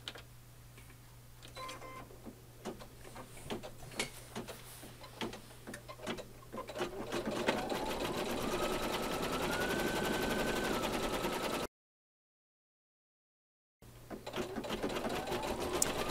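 An embroidery machine stitches applique fabric in a hoop for a Valentine placemat, starting with sharp separate needle taps, then settling into a fast, steady rattling hum that runs on through a short break, loud and close.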